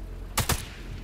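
Two sharp, loud gunshots crack in quick succession in the video game Sniper Elite 5, then fade into a low ambient rumble.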